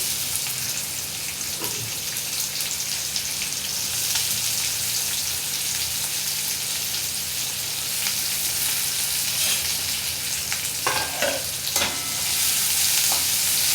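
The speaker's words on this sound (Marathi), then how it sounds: "तेल तापलं की आपण कांदा घालूया" Chopped onion sizzles steadily in hot oil for a spinach garagata, a broad crackling hiss with occasional sharper spatters and stirring clinks near the end, close and fairly loud, with no talking.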